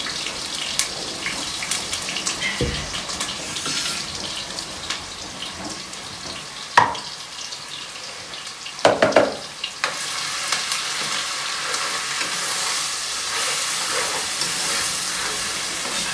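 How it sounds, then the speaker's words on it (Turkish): Onion and garlic frying in a pan, a loud steady sizzle close by with scattered stirring scrapes and a few sharper clanks of utensil against the pan. "Soğan ve sarımsağımız yandı. Şimdi daha da iyice kavuruyorum."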